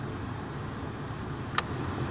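A 1992-2000 Honda Civic AC blower motor runs with a steady, low whirring hum. A single sharp click cuts through briefly near the end.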